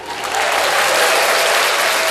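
A crowd at a comedy show breaks into loud, sustained applause that swells quickly and stays dense and near to the end.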